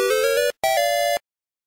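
A telephone rings with two loud electronic tones, separated by a short gap, then falls silent.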